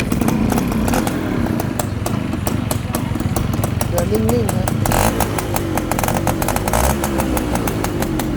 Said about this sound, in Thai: เดี๋ยวเรามาฟังเสียงเครื่องยนต์กันนีกว่าฮะ